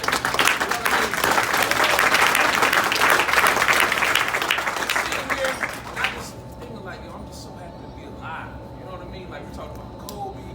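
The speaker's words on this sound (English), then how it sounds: "I want everybody to just clap it up for being alive right now." An audience at a behind-the-scenes event for Black Fathers claps loudly and steadily for about six seconds, then the applause drops away to a quieter room with a faint tone and scattered sounds.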